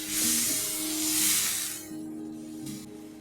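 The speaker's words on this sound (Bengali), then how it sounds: "পরিমাণ মতন জল দিয়ে দিলাম" Water poured into a hot pan of egg curry gives a loud, close hiss and sputter that swells, eases and flares again over a low steady hum.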